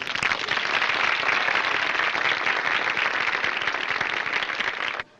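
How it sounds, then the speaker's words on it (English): Studio audience applause at a 1941 radio show, a dense, steady burst of clapping from many hands that carries on evenly for about five seconds, then stops abruptly. "Is that applause I hear?"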